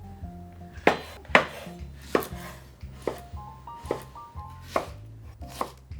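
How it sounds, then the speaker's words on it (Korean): Sharp, evenly spaced knife chops on a cutting board, about a dozen strikes close up, with background music underneath. "여기에 들어가는 야채를 또 손질을 해야죠."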